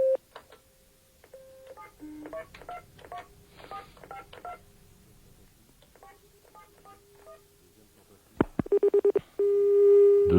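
Telephone keypad dialing tones in quick succession on a phone call, with ringing and line tones; a short burst of rapid DTMF beeps near the end is followed by a steady tone, with no talk.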